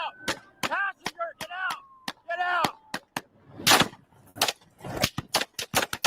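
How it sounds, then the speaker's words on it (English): A rapid string of sharp gunshots cracks out, spaced irregularly and then coming in quicker bursts, interleaved with shouted voices early on. "That's gunshots."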